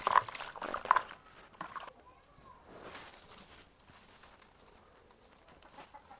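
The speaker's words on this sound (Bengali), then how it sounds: "এখন ভালোভাবে একটু ধুয়ে নেব।" Cut ash gourd pieces are washed in water in a kitchen. Splashing and sloshing is loudest in the first two seconds, then fades to quieter watery patter and handling sounds.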